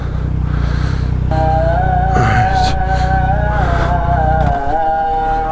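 A car engine revving as it is driven without using the clutch, with a steady low drone and rising, falling engine tones. A voice speaks briefly.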